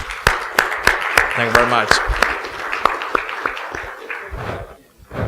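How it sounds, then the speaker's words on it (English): Audience applause after a talk, a burst of scattered clapping that thins out and fades, with a voice speaking over it. "So please give some applause to that."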